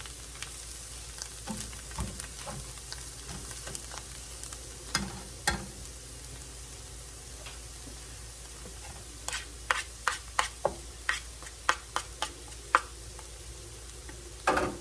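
Monterey Jack cheese melting in a pan with a soft continuous sizzle, while a spoon or spatula scrapes and taps the pan in quick irregular strokes.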